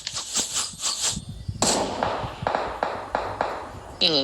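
Gunfire in the mobile battle-royale game PUBG Mobile comes as a quick series of sharp, evenly spaced shots, roughly eight or nine loud cracks in a steady rhythm following a few lighter taps.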